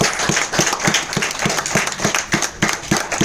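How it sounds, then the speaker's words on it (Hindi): Hands clapping at a business presentation in a rhythmic, evenly spaced pattern, a small group beating out steady claps close by for a few seconds. "तालियां।"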